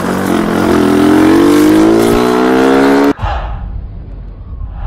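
A Yamaha MT-09 motorcycle engine runs loudly with a steady, rising rev for about three seconds, then cuts off abruptly, leaving a quieter rumble and background noise; close and dominant, with no talking.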